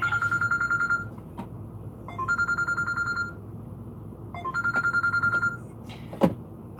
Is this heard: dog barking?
no